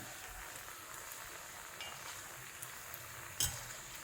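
Nendran banana balls fry in hot oil with a faint, steady sizzling hiss, a soft clink of a utensil near the end; no one speaks.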